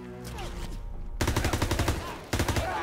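Bursts of rapid gunfire in the Call of Duty WWII D-Day level, loud and close, in two dense volleys after a quieter stretch of game sound.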